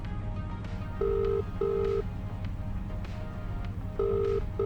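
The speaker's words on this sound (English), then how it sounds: "I better give the guy a ring" A phone rings in Farming Simulator 25, repeated electronic ring tones in short paired bursts with gaps between, heard fairly quietly over a low background hum.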